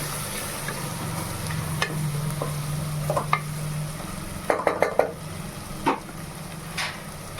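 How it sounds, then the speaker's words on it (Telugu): Ginger garlic paste fries in oil for mutton donne biryani, a soft steady sizzle broken by a spoon scraping and clinking against the pan in short bursts, close and without talk. "ఇంకొక స్పూన్ జింజర్ గార్లిక్ పేస్ట్ వేసుకొని మళ్ళీ ఒకసారి ఫ్రై చేసుకున్నాం"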